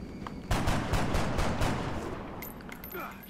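Gunfire in the XCOM Long War strategy game, a burst of several loud, rapid shots near the start that fade into a ringing tail and scattered battle noise.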